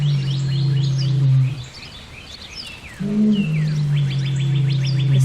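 Birds chirping in quick, high repeated calls and trills, heard over a loud, deep sustained roar that breaks off briefly and then returns.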